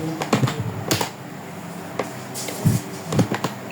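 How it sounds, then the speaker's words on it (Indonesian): Someone types ipconfig on a computer keyboard, a few sharp close key clicks in short bursts separated by brief pauses, quiet and with no talking. "Kita coba ketik ipconfig"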